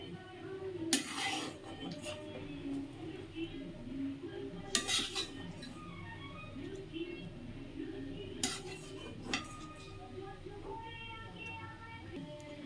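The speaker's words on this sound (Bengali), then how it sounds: "এখন মাছটা দিয়ে দেব, ছোট টুকরো করা মাছটা" Fried hilsa fish pieces go into cooked pulao in a pot on low gas, with a few sharp metallic clinks of utensil against pot standing out over a soft, quiet kitchen background.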